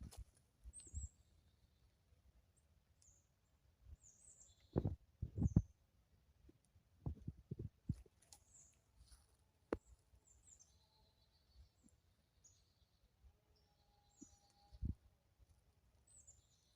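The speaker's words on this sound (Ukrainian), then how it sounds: "і пташки почали співати." Faint, high chirps of distant birds singing sporadically at dusk over a quiet background, broken by occasional low thumps and rustles nearby.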